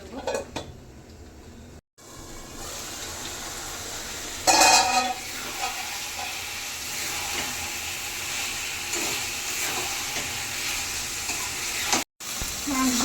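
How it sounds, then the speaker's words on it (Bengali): Mutton frying and sizzling in a pot for curry over high heat, a steady close crackle with brief clanks of a utensil against the pot, no talk. "মাংস কষানো প্রায় হয়ে এসেছে।"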